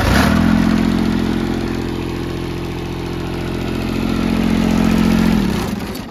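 A John Deere diesel lawn tractor engine starts and runs at a steady, loud, close idle with a low throbbing rumble, then cuts off near the end.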